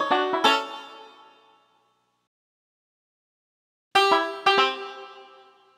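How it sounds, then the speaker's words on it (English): Banjo from the Lamb Chop Loves Music PC game: bright plucked strings, a quick strummed cluster that rings and fades, silence, then two more sharp plucked bursts, close and alone with no voices. "That's fabulous! You found the banjo."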